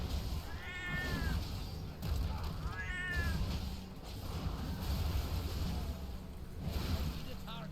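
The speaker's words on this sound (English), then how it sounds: "Hi, kitty." A cat in World of Warcraft gives two distinct rising meows close by, spaced a couple of seconds apart over a low rumbling game background.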